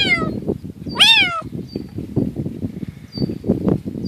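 Young male kitten outdoors giving a few clear, high meows, one prominent cry and softer ones later, over continuous rustling background noise.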